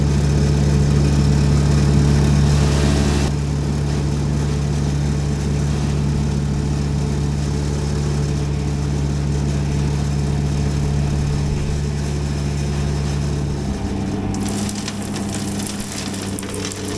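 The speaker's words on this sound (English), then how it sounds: "He's running his reversing fan a little bit." A harvester runs its reversing fan while filling a 132-foot silo during spring harvest, giving a loud, steady whooshing roar over a low engine drone; the fan noise shifts partway through and fades near the end.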